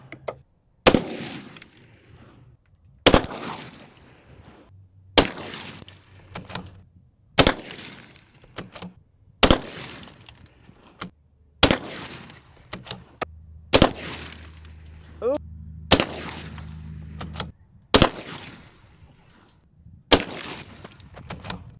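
Rifle shots fired at a Safe Life Level 4 China edition body armor plate, about ten sharp loud single reports spaced roughly two seconds apart outdoors, each with a short decaying tail.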